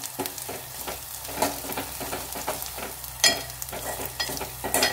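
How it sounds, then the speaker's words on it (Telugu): Brinjal pieces stirred into a frying tomato curry in a pan, with soft sizzling and repeated scraping stirs at a steady rhythm, close and fairly quiet. "ఇప్పుడైతే మనం ఇందులోకి అయితే వంకాయలు అయితే యాడ్ చేసుకుందాం."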